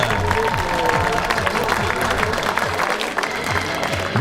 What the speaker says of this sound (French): Merci Manu, applaudissements encore pour les filles et les garçons.